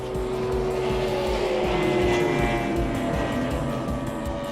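A drag boat hydroplane of about 19 feet races at over 150 miles per hour, its engine a loud, continuous, roaring drone that barely changes throughout.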